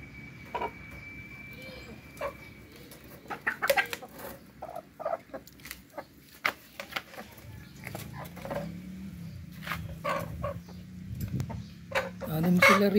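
Scattered clucks and soft calls from upgraded native chickens in a farm pen, intermittent and moderately close, with a person talking over them and some shuffling noise.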